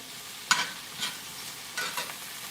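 Onions caramelize in a pan with a faint, soft sizzle, interrupted by a few distinct spatula scrapes and stirs spaced about half a second apart, no voices.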